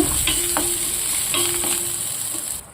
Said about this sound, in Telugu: కొంచెం పచ్చిమిర్చి వేగనిద్దాం